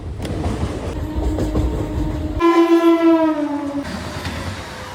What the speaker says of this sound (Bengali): সামনে থেকে একটা এক্সপ্রেস ট্রেন আসছে ফ্ল্যাট 130-এ, WAP7